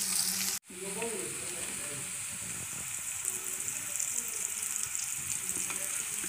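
Carrots, onions and green chillies sizzle steadily in a hot pan, a continuous close frying hiss with occasional soft stirring scrapes after a brief cut near the start.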